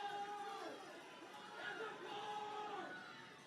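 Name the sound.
frustrated home fans at girls' high school soccer semifinal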